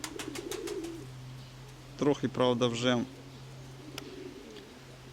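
Domestic pigeons coo outdoors on an easterly wind in a soft repeating series early on, fading toward the end, with someone speaking in the middle.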